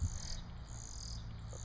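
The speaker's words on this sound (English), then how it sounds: "can hear the birds in the background." Birds chirp in the background of a garden with pepper plants, high repeated tweets over a steady outdoor hum, with no talking.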